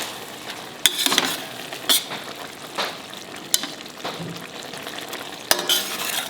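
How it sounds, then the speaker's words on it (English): Tomato chutney with melting jaggery stirred in a pan, a spoon scraping and clinking against the metal in sharp taps every second or so over a soft, continuous sizzle. "Stir it and put it off."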